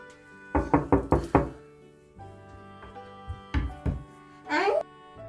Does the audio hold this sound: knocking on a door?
yes